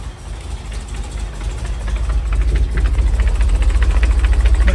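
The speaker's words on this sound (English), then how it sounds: "Push the clutch in, the rattle goes away. Even giving it RPMs, it goes away." A 1969 Chevy C30 truck engine idles loud and close with a low, steady rumble and a throwout bearing rattle, the pulsing growing more regular and pronounced toward the end.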